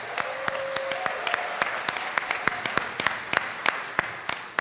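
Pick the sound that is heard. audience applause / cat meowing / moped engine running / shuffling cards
audience applause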